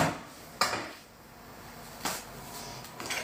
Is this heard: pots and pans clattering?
yes